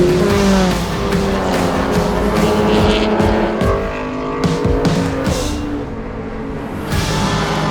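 Two Scion FR-S race cars roar past on a circuit during a World Racing League endurance event, engines loud and sustained with revving shifts and faint tire squeal, no voices.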